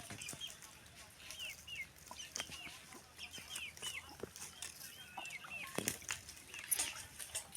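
Farm chickens cluck in scattered short bursts across a quiet outdoor field, moderately close, with no voices heard.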